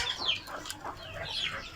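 A hen that has recovered from illness and is laying eggs again clucks in a few soft, close calls, with no voices.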